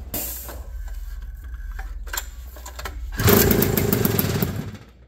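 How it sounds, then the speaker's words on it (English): A flooded engine in a vintage Honda Odyssey dirt track race car is pull-started. Several rattling pulls lead into a sudden loud, rough firing burst that runs briefly and then fades. "We're gonna give this thing a few pulls and see if it fires."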